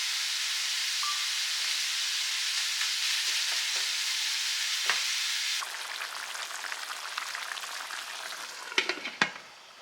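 A one-pot cheesy taco pasta cooks with a steady frying sizzle that drops to a quieter bubbling hiss partway through, with a few sharp utensil clinks near the end and no talking.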